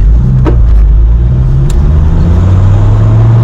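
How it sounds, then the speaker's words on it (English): A Dodge Viper cruising steadily at about 30 mph and 1500 RPM, its engine a low, constant rumble heard from inside the car with no voices. "So this is just cruising along at 30 miles an hour. It sits on 1500 RPM."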